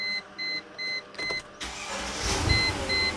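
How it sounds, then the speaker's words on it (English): A Mercedes ML55 AMG, previously stuck cranking, turns over briefly and fires, settling into a steady idle, with rhythmic warning chimes beeping before and after the start. "Yep, fires right up."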